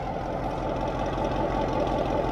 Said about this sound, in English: And he has a Corsa exhaust